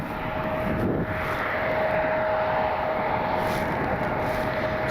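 A Boeing 747 taxiing at Cleveland Hopkins airport gives a steady, continuous jet engine roar with a faint high whine, heard alone at moderate distance.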